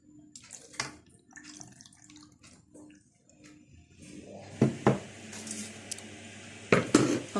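Water poured from a cup into a chicken tray with lemon and garlic in a kitchen: soft trickling and splashing, with light clinks of dishes and a few louder splashes near the end.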